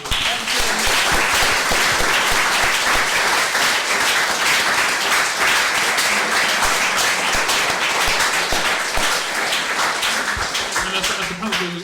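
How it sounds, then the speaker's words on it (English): A science festival audience applauds a panel discussion on democratic, accessible science, sustained, loud and dense clapping that holds steady for the whole stretch. "I'll give you a round of applause, please."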